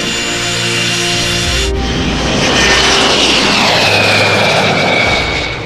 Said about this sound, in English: Here's the time he got to fly the Textron Scorpion.